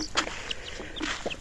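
Chickens cluck in a few short, close bursts, quick and uneven over a quiet background.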